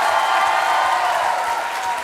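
Audience applause on the televised Indian court-style talk show Aap Ki Adalat, a steady dense wash of clapping held at an even level for the whole stretch with no voices over it.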